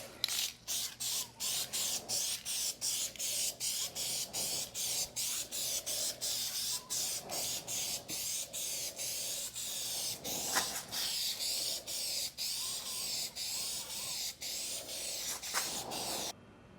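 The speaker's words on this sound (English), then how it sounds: "And now I'm about to spray some black coats." Duplicolor single-stage gloss black paint sprayed from a rattle can onto roof molding trim from a 2007 Mercedes E350 W211, with close hissing bursts in quick short pulses and brief gaps throughout.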